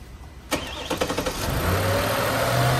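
A car engine is started after maintenance: a few quick cranking bursts catch and settle into a loud, steady idle close by.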